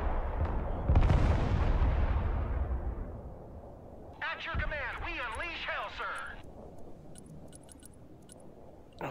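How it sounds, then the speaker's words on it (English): Artillery fire in the video game Broken Arrow, a deep booming blast followed by a long rumbling decay, with a burst of chattering gunfire and clicking effects later on and a voice talking over it. "Target marked, direct fire! Artillery at your command, sir."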